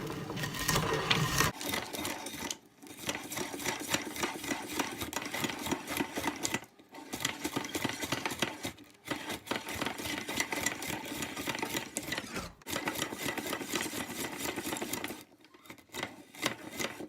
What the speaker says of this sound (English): the only problem with this slicer is it tends to get a bit backed up